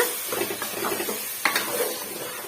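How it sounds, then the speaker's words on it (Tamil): Ground masala paste is sautéed with yam curry in a pan, giving a continuous sizzle and hiss with scraping stirring strokes and one sharper clink of the spoon against the pan. "சேர்த்துட்டு அதையுமே வந்து ஒரு ரெண்டு நிமிஷத்துக்கு நல்லா வந்து வதக்கி விட்டுக்கலாங்க"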